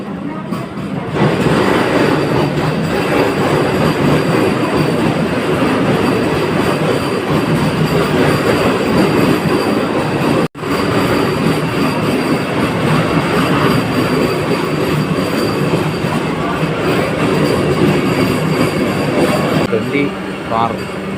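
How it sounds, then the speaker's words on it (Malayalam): A Vande Bharat train pulls out of Chengannur station with a loud, continuous rumble of rolling wagons and rail noise. The sound holds for about twenty seconds with one brief dropout. "വന്ദേ ഭാരത് ചെങ്ങന്നൂർ സ്റ്റേഷനിൽ നിന്ന് പോവുകയാണ്"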